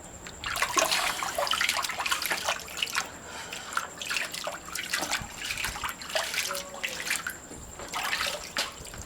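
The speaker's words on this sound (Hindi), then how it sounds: "ये पानी गिरा, पानी गिरा, चल पानी गिरा" Water splashes and pours in uneven bursts with trickling and dripping, fairly close and steady throughout, no talk heard.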